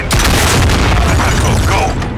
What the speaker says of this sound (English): Enemy white phosphorus in.